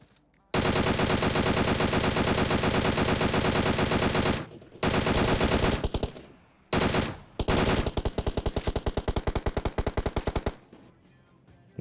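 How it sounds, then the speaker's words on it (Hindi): Rapid, loud gunfire from PUBG Mobile, including a Kar98, comes in long dense bursts with brief gaps, sustained bursts running close and continuous for several seconds before ending in silence. "यार मेरे कान के बगल से गोली जाती है वो भी कार नाइनटी"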